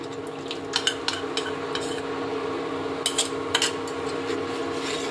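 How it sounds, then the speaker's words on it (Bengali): A cornflour mixture being stirred continuously in a pan while it cooks, soft scraping strokes with a few sharper utensil knocks against the pot over a steady low hum. "এখন অনবরত নাড়তে হবে"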